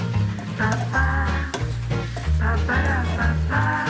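Bitter gourd pieces frying with chili powder in a pan, a steady loud sizzle broken by stirring scrapes and bursts of crackle, close and continuous.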